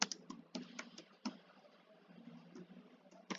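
Close, quiet keystrokes on a computer keyboard as someone types an address into an online application form, coming in short irregular bursts with brief pauses between them.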